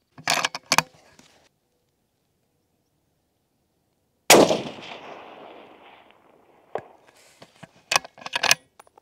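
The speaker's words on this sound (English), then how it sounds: "let's send the first shot downrange" A 6.5 PRC rifle fired downrange at a shooting range: one sharp, loud report with a ringing decay lasting about two seconds, framed by brief clicks and handling noises before and after.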